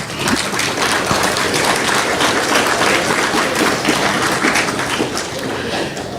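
An audience at a Let's Talk Alberta event in Spruce Grove claps together in a dense, sustained burst of applause that stays loud and even for several seconds.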